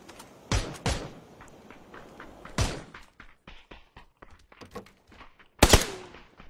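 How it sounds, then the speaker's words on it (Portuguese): Fortnite gunfire rings out in scattered bursts: a couple of sharp cracks early, another around the middle, and a loud close double blast near the end, with faint clicks and rustles between. "Pra fingir que você tá atirando pro outro lado."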